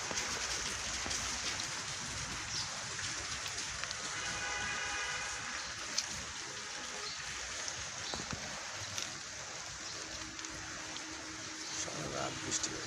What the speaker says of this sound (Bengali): আল্লাহর রহমতে বৃষ্টি পড়ছে